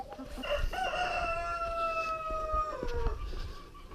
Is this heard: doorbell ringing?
no